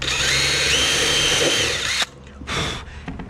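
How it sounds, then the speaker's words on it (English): A power drill bores holes for mounting a Rocket Bunny V2 spoiler on a Miata, whining loud and steady for about two seconds, then stopping, followed by a second short burst. "So I'm gonna drill these holes."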